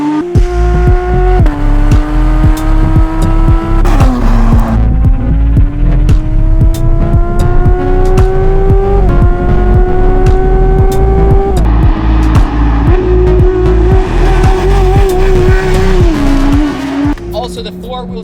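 A Porsche 911 with a non-turbo engine, a 964 C2 or 992 GT3, revs hard while driving, its loud, sustained engine note climbing through the gears with brief dips at each shift and no talk.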